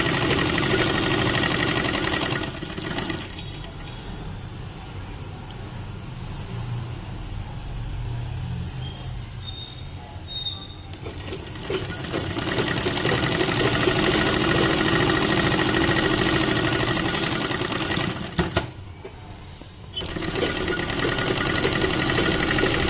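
A sewing machine runs in long, steady stitching bursts on an umbrella dress seam, close and continuous, briefly pausing twice before whirring again.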